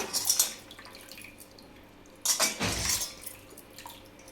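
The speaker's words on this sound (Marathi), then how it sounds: "हे स्वच्छ 2-3 पाण्याने धुवून घेऊया, का तर आंब्याला चीक असतो." Raw green mangoes are washed in water, giving two short bursts of splashing and sloshing with knocks against a vessel, separated by quieter dripping, close by with no voices.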